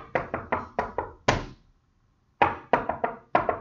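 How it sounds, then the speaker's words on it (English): Close, dull knocks on a hard surface beat out an elegiac pentameter line in long-short-short groups, with a marked pause at mid-line before the tapping resumes, crisp and alone without speech. "although I was only tapping out long, short, short, long, short, short, like that"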